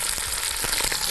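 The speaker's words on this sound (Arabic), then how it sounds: "عايزه احمر الفراخ كويس جدا" Chicken pieces fry in oil in a pot with a dense, steady sizzle and faint stirring scrapes, close and continuous, no voices.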